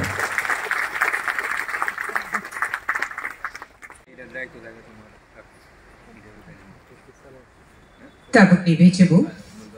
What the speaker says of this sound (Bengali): সেই সুন্দর মুহূর্তকে আমরা সবাইকে বলবো হাততালি দিয়ে স্মৃতির মণিকোঠায় ধরে রাখার জন্য